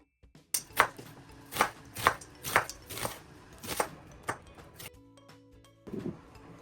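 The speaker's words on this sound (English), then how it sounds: "Moving on to the rice, I'm going to cut some garlic up," Knife chopping garlic, onions and green chilies on a board for rice, a run of sharp close thuds in an uneven rhythm with short pauses, ending in a few softer clatters.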